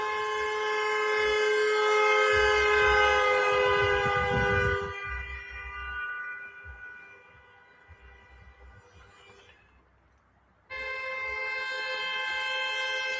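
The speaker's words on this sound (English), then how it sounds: "There's just a circle of cars driving by honking their horns." A circle of cars at a street noise protest outside a Hilton, horns blaring in a loud sustained chorus that drops away briefly before another horn blast returns near and strong.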